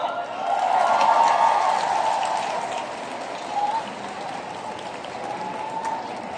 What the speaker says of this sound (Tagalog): Yan naman bilang malakas natin ang palakpak.